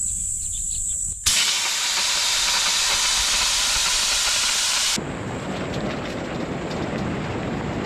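Air hissing out of vehicle tyres being deflated on a corrugated gravel road in Etosha, Namibia: a loud, steady, broadband rush that starts abruptly, holds for several seconds, then shifts to a lower, rougher hiss.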